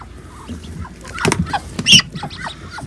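A mother duck with newly hatched ducklings on a farm, soft quacking and peeping calls coming in short bursts at close range, with a louder call near the end.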